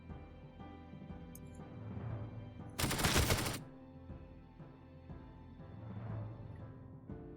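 A single sharp gunshot burst lasting under a second from the WW2 turn-based game Warsaw, standing out loud over quiet, low background game ambience.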